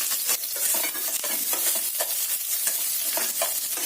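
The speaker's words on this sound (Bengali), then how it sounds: "খুব একটা লাল করে পেঁয়াজটা ভাজবো না।" Onion fries in a pan with a loud, dense sizzle, stirred repeatedly with quick scraping strokes close up.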